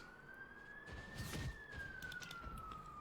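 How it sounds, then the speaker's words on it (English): A siren used as a boss alarm in the video game Watcher of Realms, during a Mythic Malrik dungeon run: one steady wailing tone that rises and falls slowly, faint, with no talking. "Siren's going past. That is the boss alarm, guys."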